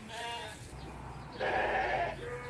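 Suffolk sheep and lambs bleat on a farm, one wavering call at the start and a louder, harsher bleat near the end, with a quieter low baa and a faint rumble of background noise between them.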